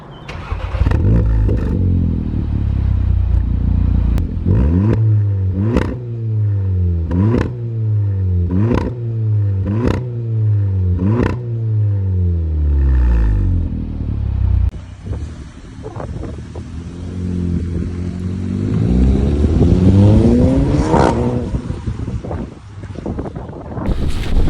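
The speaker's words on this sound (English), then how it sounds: "let's get into the sound clips" Repeated revving from a VW Polo GTI 6C fitted with a Gravity Performance exhaust, about ten sharp loud blips in steady rhythm, then a quieter stretch and a final rising rev, with wind buffeting the microphone throughout.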